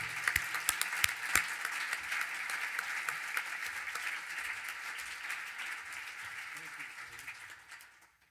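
A conference audience at an early learning event breaks into warm applause welcoming a speaker, dense steady clapping that holds for several seconds before fading out.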